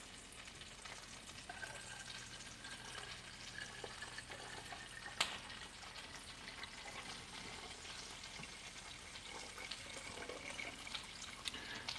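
Liquid pours steadily into a jug in a home kitchen, a faint continuous splashing trickle with a brief sharper clink midway, no talk.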